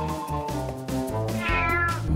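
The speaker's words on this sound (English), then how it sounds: "Oh my! Cat is awake!" A cartoon cat meows loudly on waking, a run of drawn-out, wavering cries over a steady music bed.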